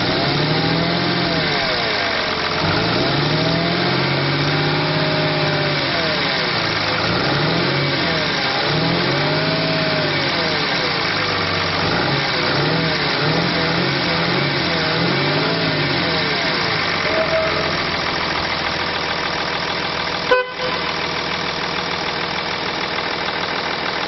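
A 2011 Dodge Ram 2500 pickup with a 6.7 liter turbo diesel engine and manual transmission runs close by, repeatedly revving up and dropping back, then settling into a steady idle with a single sharp click near the end.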